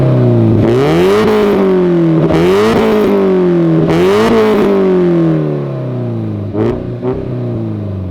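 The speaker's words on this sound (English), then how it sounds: "let me show you what this car sounds like, even though it's an EJ non-turbo" Subaru Impreza with a naturally aspirated EJ engine and its intake air muffler removed, revved three times in quick succession with rising and falling pitch, then two short blips as it settles to a steady idle, loud and close, no talking.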